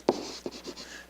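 Hand-writing on a surface to label adult, teen and overall columns, with a few short scratchy pen strokes in quick bursts, close and fairly quiet, without any talk.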